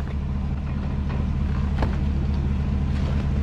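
A Chevrolet Silverado ZR2 truck crawls slowly over rocks at a rock crawl event, its engine a steady, low rumbling idle held close and loud throughout, with a few faint knocks and scrapes over it.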